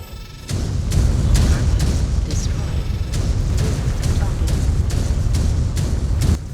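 Autocannon fire from an LB-2X in a MechWarrior video game: a steady run of booming shots and explosion bursts, loud and close, packed densely through the whole stretch.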